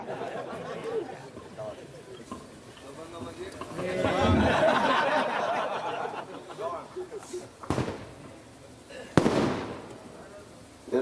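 Firecrackers pop and crackle in a noisy burst amid crowd chatter and laughter at a political party induction event, followed by a couple of sharp single bangs.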